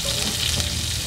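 Onions frying in a pan give a steady, close sizzle that holds even and loud throughout, with no voices over it.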